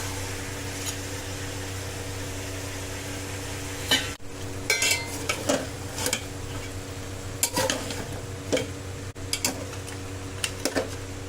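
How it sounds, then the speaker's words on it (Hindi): Mutton fries in mustard oil on a medium flame, a low steady sizzle beneath sharp scrapes and clinks of a spoon stirring against the pan, close with no talking. "फ्लेम मीडियम रखें, मीडियम फ्लेम में भून रहे हैं मटन को।"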